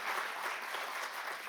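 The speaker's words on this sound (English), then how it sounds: "could we please give a round of applause to the panelists for your fantastic contribution" An audience at a workshop applauds the panelists, a dense steady wash of clapping that fills the whole moment at moderate distance, with no voices over it.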